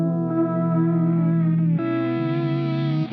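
Ambient electric guitar loop run through a Gen Loss tape-degradation effect, a sustained wavering chordal drone with warbling pitch and reverb, steady and loud throughout with a small shift in texture midway.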